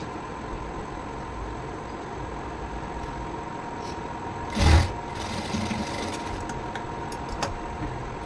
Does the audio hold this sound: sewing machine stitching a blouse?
yes